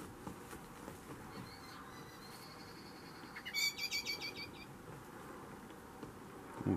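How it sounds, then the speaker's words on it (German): Birds call outdoors at night, a faint cluster of short chirps rising mid-clip over a steady low background hum, with no talking. "Oh, Vögel sind hier nachts auch noch unterwegs"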